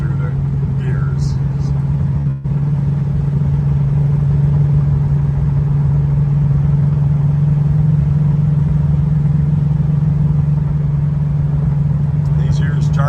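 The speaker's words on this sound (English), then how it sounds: "then I'll turn around and take off and go through the gears" Dodge Charger muscle car, late-1960s model, running with a steady low engine drone that holds loud and even throughout, with one brief dip early on and no clear rise through the gears.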